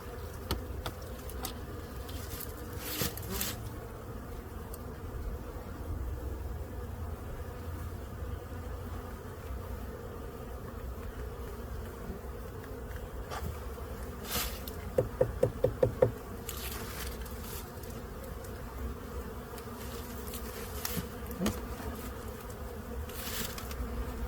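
Honey bees buzzing around an open hive, a steady low drone with individual bees zipping past the microphone now and then, plus a brief burst of rapid tapping midway.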